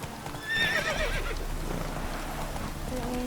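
Roach the horse in The Witcher 3 whinnies loudly near the start, then hooves clip-clop steadily beneath faint rain-like ambience.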